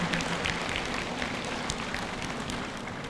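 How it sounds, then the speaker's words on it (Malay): University audience at a vice-chancellor's new year address applauds its students, steady broadband clapping heard at moderate distance, unbroken for a few seconds. "Beri tepukan kepada para pelajar kita."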